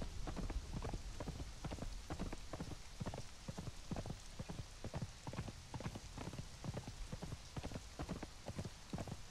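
A horse's hooves in Conan Exiles, a fast, even clip-clop gallop repeating steadily throughout, faint and somewhat washed with a noisy hiss like rain.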